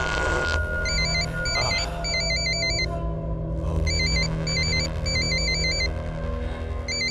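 An electronic phone ringtone repeats in short patterned bursts over a steady background hum, pausing briefly midway before resuming.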